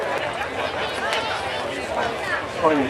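Crowd of spectators before a V8 Supercars race in Darwin, a steady babble of many overlapping voices nearby, with no single dominant talker.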